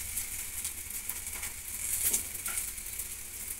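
Wheat roti frying in oil on a pan, giving a soft, steady sizzle that stays quiet and even throughout, with faint crackle and no voices.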